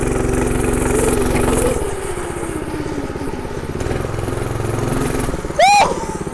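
A Predator 212cc engine on a minibike at full throttle, a loud buzzing rasp that holds high then eases into a steadier drone, with a brief rising whine and a shout near the end.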